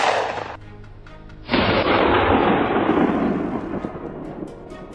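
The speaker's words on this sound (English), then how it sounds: "As soon as they moved to the most ideal position, gunshots immediately rang out." Gunshots fired at wild boar during a winter hunt in a frozen forest, two loud sharp blasts each trailing into a long rolling echo, with no talking.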